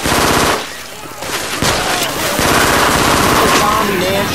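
Rapid automatic gunfire from Left 4 Dead 2 as players shoot zombies at the Dark Carnival, with loud sustained bursts and overlapping shots, plus a brief lull near the start, all mixed with game noise.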